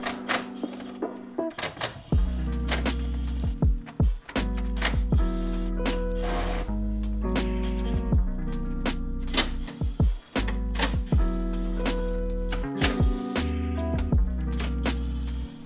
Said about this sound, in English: we're gonna go ahead and zip them off with the Milwaukee